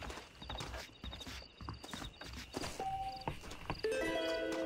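Horse hooves clip-clop at a walking pace in the video game Red Dead Redemption, irregular thuds under faint game music tones, with an occasional snort.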